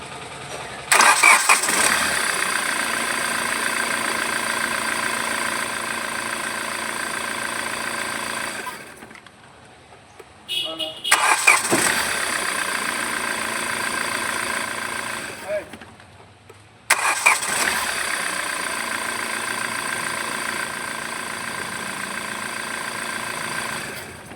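A vehicle engine with a half-seated belt on its automatic adjuster cranks and catches three times, loud and close. Each start settles into a steady idle, then cuts out for a moment before the next restart.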